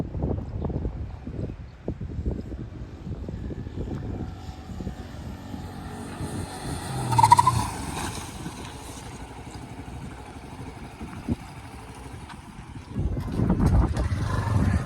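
A Honda CB 125 Hornet motorcycle is ridden past during a braking test, its engine note rising to a peak as it approaches and then fading, against outdoor wind noise.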